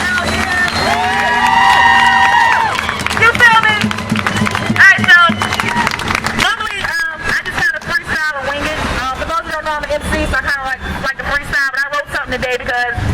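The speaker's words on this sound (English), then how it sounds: "You have some round of applause to get right quick, please" At a Richmond justice parade rally, a crowd cheers and murmurs under a speaker's voice, then breaks into dense, sustained clapping that continues to the end.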